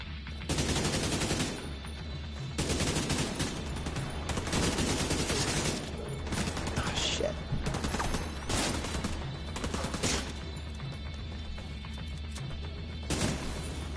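Gunfire in The Division 2, with loud bursts of automatic shots and crackling volleys arriving in irregular clusters, some close and sharp, others more distant.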